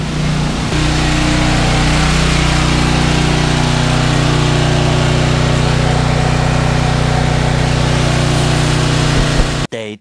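A Harbor Freight variable-idle portable generator runs steadily during a power outage after Hurricane Irma, its loud, even engine drone holding constant before cutting off abruptly near the end.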